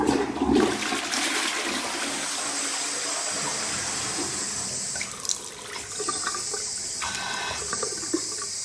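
A toilet flushes in a house bathroom with white tiles, a steady rushing of water that runs on and then settles into the hiss and trickle of the cistern refilling.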